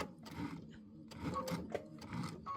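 A sewing machine stitches quilt borders with a back stitch, giving a soft, uneven mechanical whir with small clicks and rattles that rises and falls across a few short runs.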